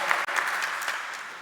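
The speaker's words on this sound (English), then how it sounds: "Please, a round of applause for Javier and his fantastic talk." Audience applause following a conference talk on highly available Ethereum nodes, a dense steady clapping crowd heard close and loud throughout, with a brief dip near the start.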